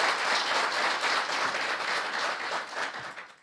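Audience applause rings out after a song performed by a classical vocalist at a public event, a dense sustained clapping that holds steady for about three seconds before fading out at the end.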